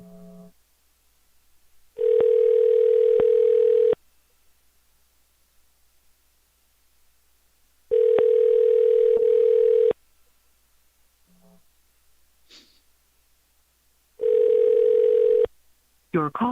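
A telephone dial tone sounds while someone is being called, coming in three loud, steady bursts of about two seconds each with quiet gaps between them, plus a few faint short beeps.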